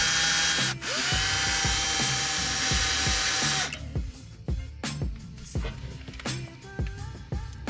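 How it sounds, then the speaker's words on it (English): A drill bores out a bolt snapped inside a Subaru STI brake caliper, whining loudly and steadily for several seconds before stopping, followed by clanks, taps and ratcheting tool noises close by. "We're starting to drill out this bolt."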